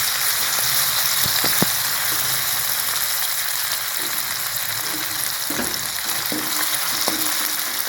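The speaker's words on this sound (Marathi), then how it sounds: "ते आपल्याला तेलामध्ये टाकून द्यायचे। त्याला असं छानपैकी भाजून घ्यायचे।" Crushed green chilli and garlic paste fries in hot oil with a steady, loud sizzle, joined by a few faint clinks and scrapes of a spoon. No one speaks.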